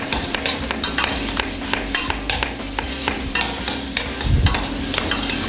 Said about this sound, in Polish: Boczek nam się podsmażył razem z cebulą.